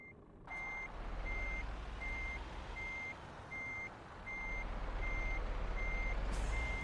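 A truck reversing in the Euro Truck Simulator 2 game, with regular evenly spaced backup beeps over a low diesel engine rumble, ending in a short air hiss.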